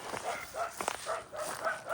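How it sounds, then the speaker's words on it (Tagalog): Several dogs bark and yip in quick, irregular bursts at a moderate distance near a large unfinished mosque in Saudi Arabia, with a person's voice faintly mixed in. "Ingay ng mga aso."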